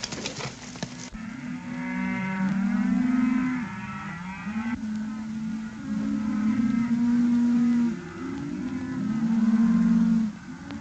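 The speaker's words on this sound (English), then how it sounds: "The boys are getting the cattle through without a hitch." Cattle low repeatedly while a herd is driven through open country, several long moos overlapping one another at moderate distance over a steady background rumble.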